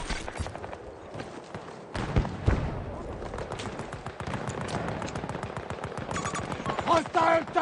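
Dense gunfire in Battlefield 2042 hardcore multiplayer, rapid automatic bursts and single shots crackling continuously over about eight seconds, with heavier thuds mixed in and a faint game voice now and then.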